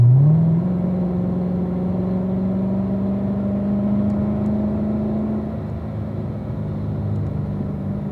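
A race car accelerates in third gear up a racetrack straightaway, its engine note climbing in a steady, loud drone with a deep rumble, held close and unbroken before easing slightly near the end.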